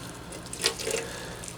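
Pure well water drawn from an aquifer splashes briefly into a container for a terrarium, a short close pour with a couple of trickling bursts over quiet background.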